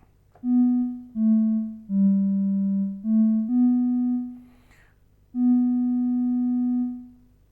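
Synthesizer patch with a filter fed back into an ADSR envelope: six sustained, pitched tones with bright harmonics, each swelling in quickly, holding steady and then releasing, with short gaps between notes and no talking.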